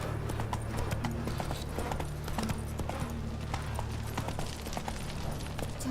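In Witcher 3, the horse Roach gallops in a rapid, steady drumming of hooves, close and prominent, with faint game ambience beneath.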